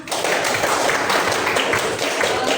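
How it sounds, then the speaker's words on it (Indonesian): An audience in a university classroom in Indonesia applauds after a student presentation, a dense, steady wash of many hands clapping together at close range and fairly loud throughout. "Tepuk tangan."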